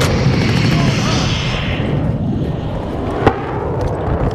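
Precision airstrike explosions in Modern Warfare II land as a loud, rumbling wash of booms with a sharp crack near the end, close and dense over battlefield noise.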